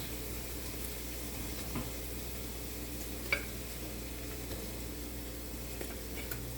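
Breadfruit frying in a pan on the stove, a steady low sizzle and crackle throughout with one faint tap, quiet and even.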